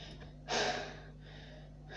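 A single short, breathy gasp of someone out of breath, close and fairly quiet against a faint steady hum.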